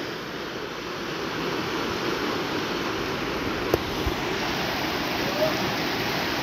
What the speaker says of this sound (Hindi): थोड़ा सा हम दोस्तों अपनी वॉइस को रोक कर आपको पानी के बहाव की आवाज़ सुनाते हैं